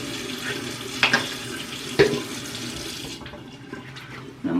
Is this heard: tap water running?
yes